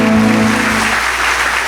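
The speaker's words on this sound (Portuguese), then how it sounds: "Vamos aplaudir ao Senhor." A church congregation claps together during a worship service, a dense, continuous wash of applause with a lingering hum underneath, brief and steady.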